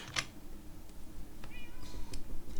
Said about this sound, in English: she's just meowing